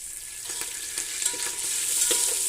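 Curry leaves sizzle in hot oil, a bright crackling hiss with several sharp pops and stirring scrapes, close by and gradually growing louder.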